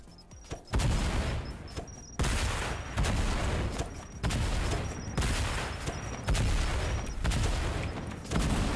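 Grenades and rockets exploding in the Fortnite video game, a rapid string of loud blasts going off one after another in quick succession with a few short gaps.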